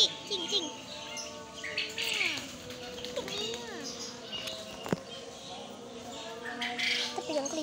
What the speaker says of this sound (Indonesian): Ada burung juga.